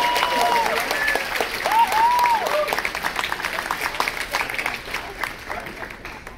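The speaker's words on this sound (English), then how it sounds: "round of applause for Mariana" Loud, dense audience applause and cheering at the Infinity Con 2021 cosplay contest, a steady wash of clapping that gradually thins out, with a voice speaking over it.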